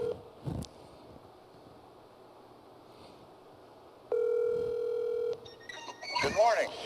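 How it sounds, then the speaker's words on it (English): Phone call being placed: a quick tap, then a steady dial tone for about a second, followed by faint rustling and a burst of handling noise and a voice at the end. "So I'm going to call Josiah right now"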